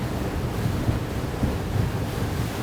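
Strong wind buffets the microphone over a continuous roar of waves and rushing water aboard a Rock 36 maxi RIB boat at speed, loud and unbroken.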